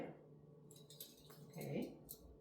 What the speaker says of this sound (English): Okay, now I'm going to do the forks. The knives.